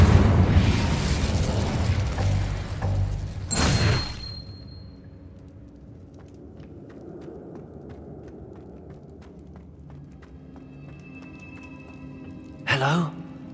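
An Incendio fire spell from Hogwarts Legacy bursts with a loud whooshing blast at the start and again just before the four-second mark. Quieter rumbling follows, and a short final burst comes near the end.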